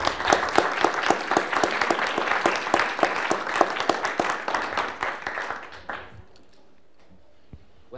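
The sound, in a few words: audience applauding the speakers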